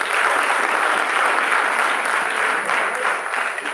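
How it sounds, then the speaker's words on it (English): A school audience at an interhouse quiz competition bursts into loud, dense applause for a correct answer, sustained clapping close and full for several seconds before easing slightly at the end. "Big round of applause for him."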